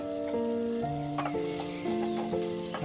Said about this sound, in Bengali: দেওয়ার পর ওই তেলেই পেঁয়াজটাও আমি ছেড়ে দিলাম। তারপর কিছুক্ষণ নাড়াচাড়া করলাম